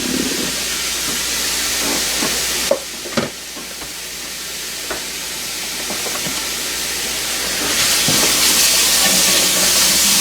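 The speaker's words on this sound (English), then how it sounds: "our next step is to get our diced bacon cooked up" Diced bacon cooking in a pot for clam chowder, giving a loud, steady sizzle and hiss with a few sharp clanks and scrapes of stirring, the frying growing brighter near the end.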